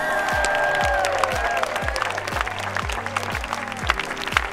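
An audience at a festival runway fashion show applauds the artists, steady mid-distance clapping over a regular low thumping beat, with a few scattered cheers.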